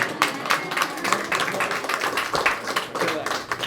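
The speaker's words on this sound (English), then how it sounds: "Just cheer around for his wife." A crowd at a meet-and-greet event in Long Beach, California applauds and cheers, a dense steady wash of clapping and voices lasting throughout.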